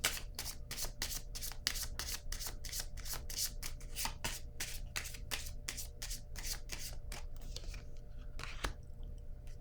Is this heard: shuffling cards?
yes